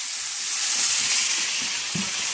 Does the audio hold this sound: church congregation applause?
no